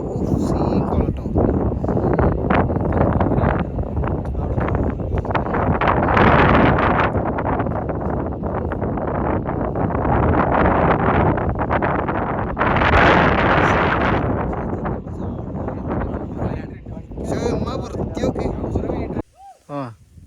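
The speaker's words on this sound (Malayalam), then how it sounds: "ഫുൾ കാറ്റ്, പെരും കാറ്റ്" Strong wind gusts roaring steadily across the microphone beside a pond, a loud, continuous buffeting rush that swells and eases for most of the stretch before dropping away at the end.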